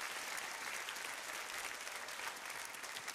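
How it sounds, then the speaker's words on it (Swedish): Steady applause from a church youth conference audience, dense and continuous clapping filling the whole stretch at moderate distance with no break. "Ska vi ge honom applåd?"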